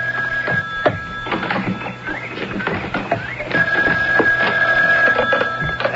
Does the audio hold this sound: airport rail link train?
no